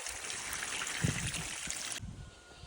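Water trickles and flows steadily into a well after the pump is switched off, a faint, continuous stream heard nearby.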